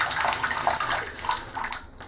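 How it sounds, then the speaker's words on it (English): Water runs from a bathroom hot tap, a steady splashing flow with a slight taper near the end, close and fairly loud. "if you find that actually water's kind of dribbling out a bit like this"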